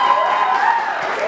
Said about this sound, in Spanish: El aplauso que se escuche